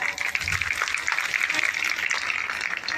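Listeners at a Bhagwat katha religious discourse in Etah clap together in a busy, even wash of applause that holds steady throughout with little variation in loudness.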